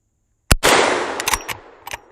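A Henry lever-action rifle fires at targets on an outdoor range: one sharp, loud report after near silence, then a ringing tail and several quicker clicks and knocks as the lever is worked, close to the microphone.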